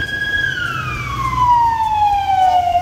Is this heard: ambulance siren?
yes